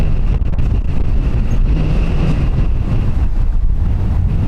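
A strong crosswind gusting from 210 degrees at 23 to 30 knots at Dublin Airport roars loudly and continuously against the microphone.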